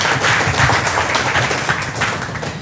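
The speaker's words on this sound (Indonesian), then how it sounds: "tepuk tangan dulu dong buat strong kanggeng" A roomful of people applauds steadily and fairly loudly for a few seconds, a dense, continuous wash of clapping.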